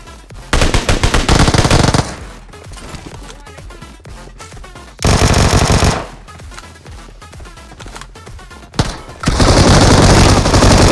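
Automatic gunfire from a squad fight in the mobile battle-royale game PUBG Mobile, loud bursts of rapid shots in three clusters separated by quieter stretches of game sound.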